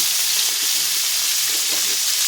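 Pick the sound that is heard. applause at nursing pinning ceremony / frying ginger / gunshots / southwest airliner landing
frying ginger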